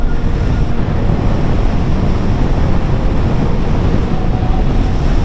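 Steady, loud, roaring wind buffets the microphone while riding an electric motorcycle at speed on a windy day, a constant broadband rush with no breaks.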